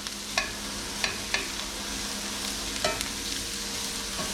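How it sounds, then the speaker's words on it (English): Steady sizzling of onions frying in a hot pan, a dense crackling hiss with occasional soft clicks of stirring, close and continuous. "You want to hear that sizzle when those onions hit the pan."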